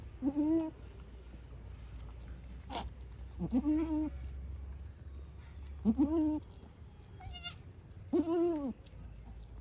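A newborn male goat kid bleats four times in a steady rhythm about two seconds apart, each call clear, nasal and close over a low background hum, with no talking.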